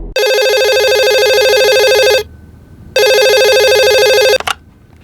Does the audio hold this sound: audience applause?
no